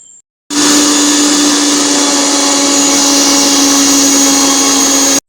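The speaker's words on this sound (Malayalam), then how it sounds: "നമുക്ക് മിക്സിയിലിട്ട് അടിച്ചെടുക്കുക" A loud mixer grinder blending tomato, garlic and ginger starts abruptly after a short pause and runs at a constant high-pitched whine for about five seconds before cutting off.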